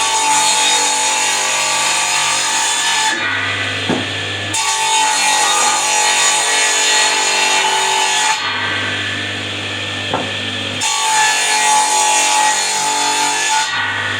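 A power saw cuts lengthwise along a long six-metre wooden beam for firewood, running nails and all, as a steady, loud grinding rasp that drops out twice between passes before resuming.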